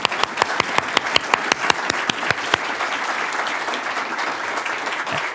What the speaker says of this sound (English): how about a big round of applause for the panelists?